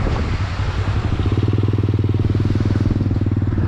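A motorcycle engine runs close by as a gear is shifted, a rough idle that settles into a steady, throbbing, pulsing rumble, loud and continuous without speech.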